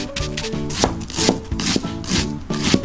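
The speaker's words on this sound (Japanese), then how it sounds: "僕ね、ちょっとみじん切りやり方ちょっと特殊なんですけど、こんな感じでね、ちょっとずつやっていくんですよ。" A kitchen knife mincing half an onion little by little on a cutting board, close, rhythmic taps in quick irregular runs.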